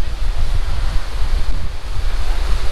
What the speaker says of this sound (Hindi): थ्रू आउट द ट्रैक ये बहता हुआ पानी आपको